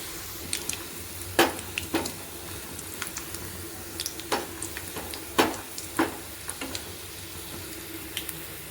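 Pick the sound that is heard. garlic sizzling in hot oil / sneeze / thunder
garlic sizzling in hot oil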